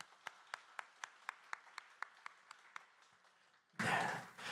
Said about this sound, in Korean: 우리 축복과 격려의 박수 하도록 하겠습니다